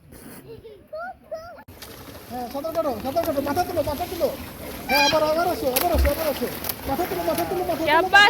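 Children learning to swim at a resort pool splash the water amid lively kids' voices and talking, with intermittent close splashes and shouts throughout.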